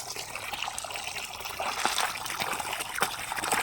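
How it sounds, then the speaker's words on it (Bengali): Water runs from a pipe into a bucket in a steady splashing, trickling flow that fills the whole short stretch, close by and fairly loud. "এখন এই বালতিতে একটু জল ভরে নিচ্ছি"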